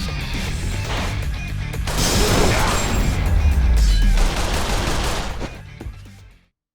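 Machine gun fire in Yakuza Kiwami 2, a loud rapid burst of shots mixed with crashing impacts, close and continuous for several seconds before cutting off.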